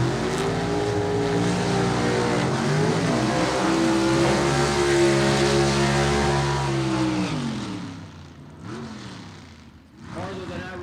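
A 1957 Pontiac gasser drag car with a 477-cubic-inch big block Chevy roars loudly off the line at a Gulfport drag strip, engine pitch climbing through gear changes before fading, then brief revs return at the end.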